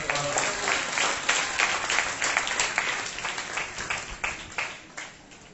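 A church congregation claps its hands in a rough rhythmic pattern, a series of sharp, close claps that carry on steadily throughout.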